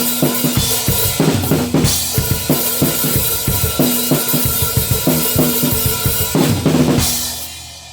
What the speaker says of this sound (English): it's just like snares on every beat